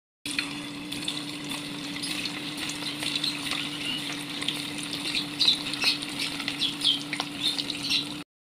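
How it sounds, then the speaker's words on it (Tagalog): Homemade meatballs frying in oil in a pan, giving a continuous close sizzle and crackle with scattered sharper pops, and no talking throughout. "Guys, piniprito ko na yung ginawa kong meatballs"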